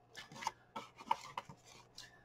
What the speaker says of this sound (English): I like to trim off this little part of the envelope